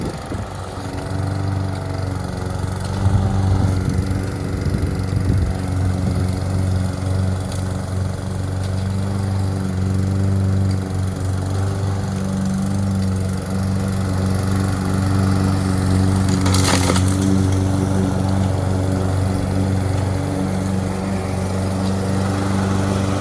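Gas lawn mower engine running steadily while mowing a property owner's lawn, a constant loud droning hum with a brief sharper rattle midway, no talk.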